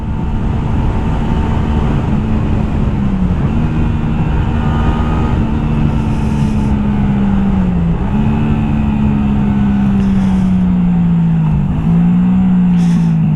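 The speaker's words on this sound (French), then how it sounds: "elle a pété. Elle a fait un petit prout la moto" A Honda Shadow 125 motorcycle being ridden drones with a steady engine note that rises and falls through gear changes and throttle shifts, loud and close, with a few brief sharp pops from backfires near the end.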